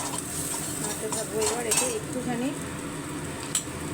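A spatula stirring a spiced mixture in a pan over a low flame, giving a gentle continuous scraping and sizzle with light metallic clinks, close by. A voice speaks briefly over it.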